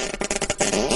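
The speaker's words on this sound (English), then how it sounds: "if you farted, would it still sound like you?" Comic fart sound attributed to Darth Vader, a short run of sputtering, rippling bursts about a second long, loud and close, with no talking.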